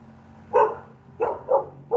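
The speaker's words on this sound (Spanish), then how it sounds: "Miren, mi perro no quiere estarse quieto." A pet dog barks four times in uneven succession, short sharp woofs at moderate distance, indoors against a faint steady hum.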